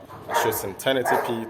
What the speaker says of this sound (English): Apologies for the dogs barking over there.